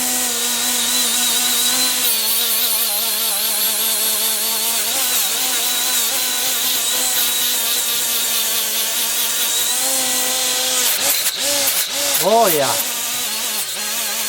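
A new Milwaukee die grinder whines steadily at high speed, its pitch wavering slightly, then it revs and drops near the end as it winds down; one brief remark is spoken over it.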